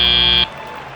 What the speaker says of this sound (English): as the timer buzzes